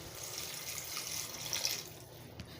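Broth poured into a pan of potol, tomato and fish curry: a continuous wet pouring and bubbling wash, even and close throughout.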